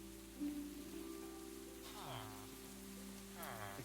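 Steady rain patters in a video game, a soft continuous hiss beneath sustained musical tones, with a person talking briefly now and then.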